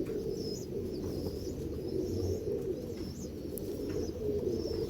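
Many pigeons coo softly and continuously at a large pigeon farm in Latur, Maharashtra, a low, even murmur of overlapping calls with no talk.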